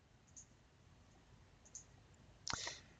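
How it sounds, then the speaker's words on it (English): A single computer mouse click while setting up a YouTube channel, a crisp close snap near the end of an otherwise quiet, hissy stretch, with faint ticks before it. "So I'll click on this icon up here"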